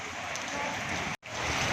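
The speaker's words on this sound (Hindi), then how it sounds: "ओले डिग रहे हैं।" Rain and hail pour down outdoors around the village of Rasool Nagar near Wazirabad, Gujranwala, a loud dense roar of falling drops that cuts out for an instant before resuming.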